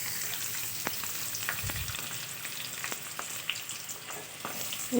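Chopped onion hits hot white oil in a wok, giving a soft, steady sizzle with occasional crackles and a faint clunk, close and quiet with no talking.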